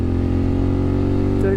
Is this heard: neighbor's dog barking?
no